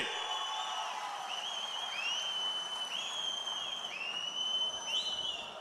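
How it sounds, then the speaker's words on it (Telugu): Crowd at a Kadapa Mahanadu political rally cheers and whoops steadily throughout, with only light clapping audible under the shouts, moderately distant and continuous. "మీకందరికీ ఆమోదయోగ్యమైతే గట్టిగా చప్పట్లు కొట్టి మీరు కూడా ఆమోదించండి"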